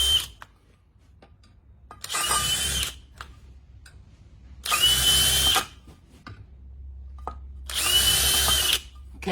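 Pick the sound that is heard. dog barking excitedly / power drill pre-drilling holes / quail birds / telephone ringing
power drill pre-drilling holes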